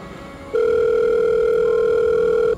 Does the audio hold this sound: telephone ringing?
yes